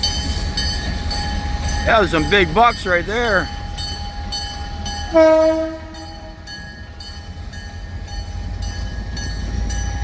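A freight train rumbles and clatters steadily nearby while its horn sounds in a series of loud, wavering blasts, followed later by one shorter blast. Someone speaks briefly between them.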